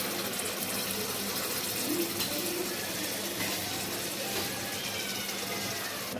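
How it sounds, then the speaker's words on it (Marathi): A steady stream of water pours and splashes continuously from a mixer jar into a cooking pot, close and fairly quiet, with no speech. "आता ह्या मिक्सरच्या भांड्यामध्ये जे वाटणाचं पाणी आहे ते मी टाकते"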